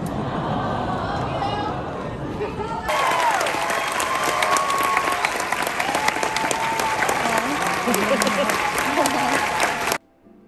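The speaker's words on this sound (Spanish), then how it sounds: "llegando hasta las lágrimas al recibir una ovación del público después de" Public audience at an interview event giving manga author Isayama an ovation after his apology: sustained loud applause from a large crowd with some cheering and chatter, swelling abruptly after a quieter start and cutting off near the end.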